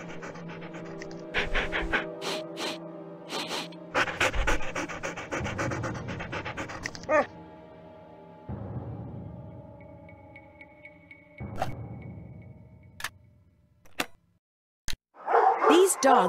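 Ghost dogs pant heavily and bark in bursts in the video game Nancy Drew: Ghost Dogs of Moon Lake, close and loud, with game sound effects and talk mixed in between.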